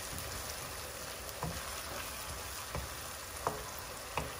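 Grated tomatoes go into tomato paste that is already sizzling in a pan. A steady frying hiss runs throughout, broken by a few soft stirring clicks and small spatters, with no talking.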